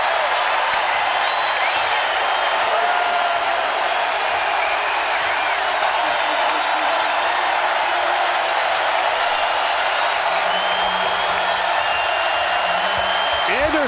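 A basketball arena crowd at an NIT quarterfinal between Western Kentucky and Oklahoma State roars and applauds in a loud, sustained wash, with a commentator's voice faintly under it.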